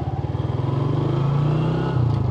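A nearly 20-year-old Suzuki Shogun SP motorcycle engine idling nearby, a steady rapid putter with a slight rise in revs toward the end, running alone without talk.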